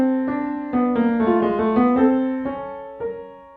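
A clavichord plays the slow-falling-then-rising subject of a Bach Art of Fugue fugue with a chromatic countersubject, sounding as a clear, close two-voice keyboard line of plucked-like struck notes in steady succession.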